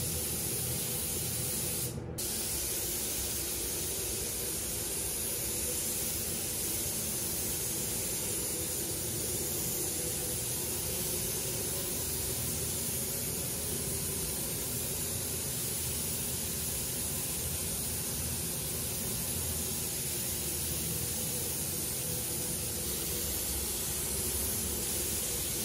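Spray gun laying coats of paint on a Rolls-Royce Corniche, a steady, continuous close hiss that runs unbroken throughout with no talking.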